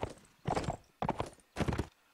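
Horse hooves in the Mount & Blade: Warband game, playing an American Revolution mod, clop out in three distinct clustered bursts, close and fairly loud, each a quick run of hoof strikes.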